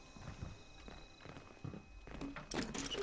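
Footsteps in Fallout 76, a series of uneven, clopping steps on a hard floor, some near and some softer, growing louder toward the end.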